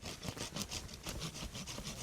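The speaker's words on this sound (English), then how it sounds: "Just let the saw do the work." A hand saw cutting a weeping Japanese maple branch rasps back and forth in a steady, quick rhythm, each stroke a soft scratchy whoosh, fairly close but quiet.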